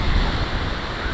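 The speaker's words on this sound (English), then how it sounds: "Whoa, that water's chasing me." Ocean waves wash up on a beach in a steady, loud broadband rush of surf and foam, with some wind noise on the microphone throughout.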